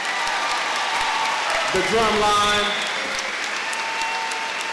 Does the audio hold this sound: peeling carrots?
no